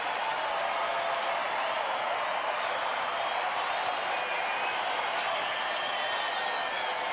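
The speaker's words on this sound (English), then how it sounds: "Having a fun, noisy night at the ballpark." A big crowd fills a baseball ballpark at night during a Rangers–Oakland game, producing a steady, dense roar of voices and applause that holds at one level throughout without breaks.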